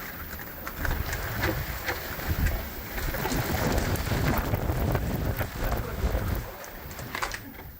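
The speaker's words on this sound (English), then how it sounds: "the wind picked up and it started raining quite hard" Heavy rain pours steadily with gusting wind buffeting the microphone, a dense continuous hiss and rumble up close, with some voices faintly underneath.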